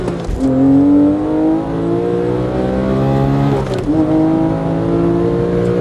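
A Nissan GT-R launches hard from standstill in first gear after a clutch dump, its engine note climbing steadily, briefly dipping at a shift, then rising again. Loud, close and continuous, with no talk over it.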